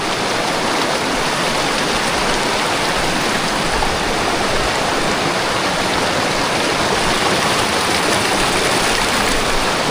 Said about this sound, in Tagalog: Malumot yung ilog.